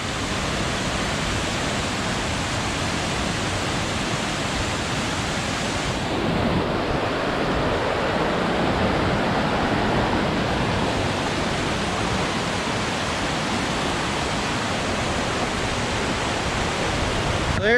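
Laurel Creek Falls, a waterfall feeding a swimming hole, roars as a steady broadband rush of falling water, loud and continuous throughout with no talking and only slight shifts in tone.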